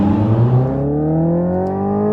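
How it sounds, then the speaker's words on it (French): A Hyundai Ioniq 5 N electric car launches hard under launch control, its loud synthetic engine note climbing steadily in pitch as it accelerates, close and alone. "c'est le moment de faire un launch control ou un lancement de bête avec notre Ioniq 5N"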